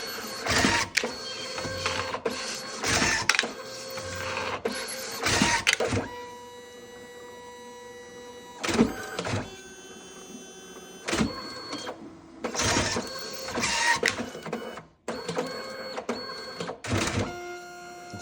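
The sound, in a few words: printer printing a page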